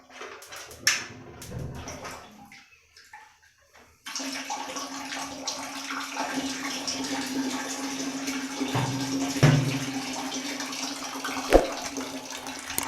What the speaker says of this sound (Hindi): तो अभी हम इसका पानी खोलते हैं।